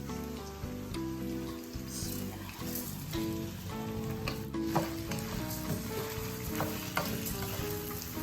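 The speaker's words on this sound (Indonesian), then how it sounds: "Kita akan goreng sekejap sampai rasa dia punya air tu dah kering, baru kita akan angkat." Rice sizzles and fries in a hot pan for Hainanese chicken rice, a steady close crackle with occasional stirring scrapes throughout.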